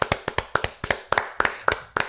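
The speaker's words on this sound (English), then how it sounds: "So let's clap it up for that" A few people clap their hands in short uneven bursts, roughly a dozen sharp close claps over two seconds.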